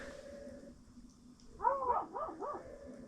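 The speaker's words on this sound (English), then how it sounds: "We got two dogs like going at it outside the hut here." Two dogs fighting outside an ice fishing hut: after a steady background hum, a burst of sharp yips, whines and growling barks, several quick calls close together, moderately near.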